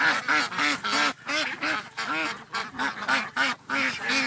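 Ducks on a Thai duck farm in Isan quack in a steady run of loud, nasal, closely spaced calls, several birds overlapping near at hand.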